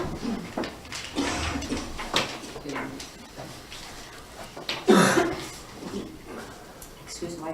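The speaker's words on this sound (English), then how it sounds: "Excuse my cough" A single cough at a city council meeting, a short loud burst midway through, set among murmuring voices and room noise.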